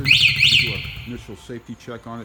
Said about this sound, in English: That was the alarm. It does feature an alarm on it as well.